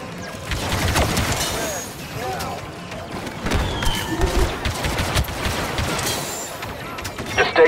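Blaster fire in Star Wars Battlefront 2, with rapid bursts of shots and crashes in a busy battle, loud and continuous, while voices speak over the combat.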